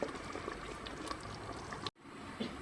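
Hot water going into a pot of Algerian harira sounds as a soft, continuous pour and bubbling, close and faint, cut off by a brief silence before quieter pan noise resumes.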